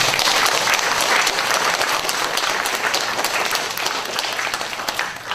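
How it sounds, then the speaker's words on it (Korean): A church congregation claps together during a Sunday service at Changwon Changsin Church, a dense, even wash of applause that fades gently toward the end. "박수 한번 칩시다."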